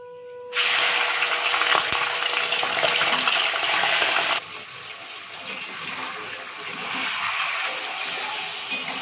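Chicken goes into hot oil seasoned with cinnamon and cardamom, and a sudden loud, rushing sizzle surges in, holds strongly, then drops to a quieter, steady frying hiss that swells again toward the end.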